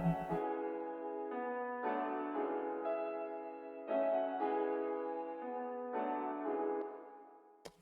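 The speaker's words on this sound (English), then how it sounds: "this is what a melody sounds like together" A layered beat melody in the style of a trap beat plays on its own, with sustained chords shifting roughly every second. The tone is soft and even at moderate volume, and it ends with a brief click.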